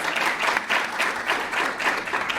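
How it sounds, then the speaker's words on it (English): Audience applause at the LSE Africa Summit 2025 panel, a steady, dense wash of many hands clapping throughout, fairly close and sustained with slight rhythmic swells. "Let's give her a round of applause"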